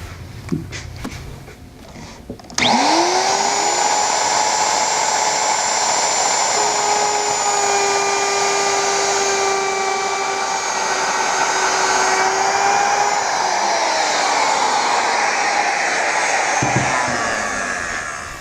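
A high-pitched power tool motor spins up abruptly and runs steadily for about fifteen seconds while cutting a mortise in wood, then winds down.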